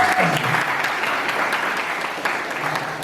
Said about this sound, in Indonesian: Tepuk tangan untuk Angelina.